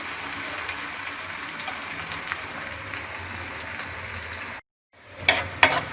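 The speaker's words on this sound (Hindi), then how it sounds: "प्याज को हम फ्राई कर लेंगे" Chopped onions frying in a pan for a pumpkin halwa, giving a steady close hiss with a sudden brief dropout, then louder crackly sizzling bursts near the end.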